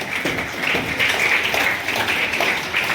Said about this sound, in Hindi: आप मंच पर जोरदार तालियों से स्वागत कीजिए टीम भगतवाणी